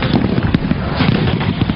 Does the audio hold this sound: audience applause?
no